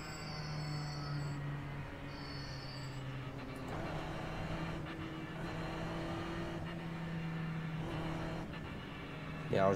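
Ferrari race car engine in the iRacing sim, a steady sustained drone from a pack of cars with a brief rise in revs near the end, no talk over it.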